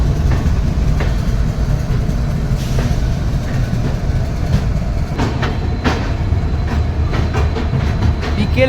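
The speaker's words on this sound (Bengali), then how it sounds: "ট্রেন তার ডেস্টিনেশন গুয়াহাটি স্টেশন এন্টার করছে" The Guwahati Dekargaon Intercity Express runs toward Guwahati station with a loud, continuous rumble and rhythmic clickety-clack of wheels over rail joints, close and steady with no clear talk.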